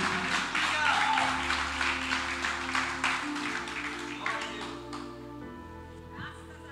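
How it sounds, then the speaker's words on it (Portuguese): A church congregation applauds during a sermon, a dense burst of clapping that gradually thins and fades, with a voice speaking over it. "dá um aplauso ao Senhor"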